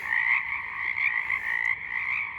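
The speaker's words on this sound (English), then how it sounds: "these used to be known as the Pacific tree frog" Pacific chorus frogs, once called Pacific tree frogs, calling in a loud, steady chorus at night, sustained trilling croaks close by with no talking.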